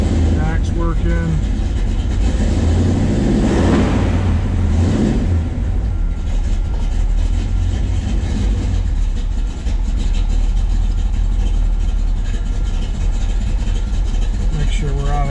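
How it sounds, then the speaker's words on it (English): A 1969 Chevrolet Chevelle SS idling with its exhaust rumbling, a loud steady low throb throughout with a brief rev near the start and someone speaking over it. "go listen to the exhaust. That nice rumble sound to it."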